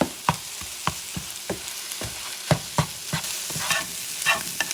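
Eggs scrambling in a frying pan for cod fish with scrambled eggs, a spatula scraping and cutting through them in repeated sharp strokes over a low steady sizzle, close and clear with no talking.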